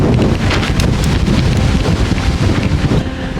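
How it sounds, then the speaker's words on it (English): Strong gusting wind buffets a microphone outdoors during greenhouse building, a loud, constant rumbling roar with no pauses, easing slightly near the end. "I've been fighting with the wind all day long."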